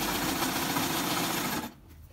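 A sewing machine runs a zigzag stitch at width 4 and length 3 along the corner of a closure, a steady close whirring hum for about a second and a half before it stops, leaving a faint low motor drone.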